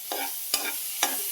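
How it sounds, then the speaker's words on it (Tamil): Mixed vegetables sautéing for vegetable rice in a pan: three sharp scraping stirs break through a soft, steady sizzle, evenly spaced and close by. "அடுத்தது இந்த காயெல்லாம் போட்டு வதக்கி அதுக்கு லஞ்சுக்கு பேக் பண்ண போகிறோம்."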